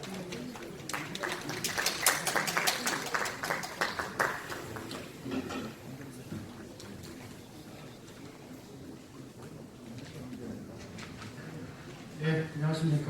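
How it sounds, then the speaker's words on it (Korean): Audience clapping at a Korean citizens' regional meeting in Hwaseong, a burst of applause in a hall that fades after several seconds, with a brief flare near the end. "큰 박수로 맞아주시기 바랍니다."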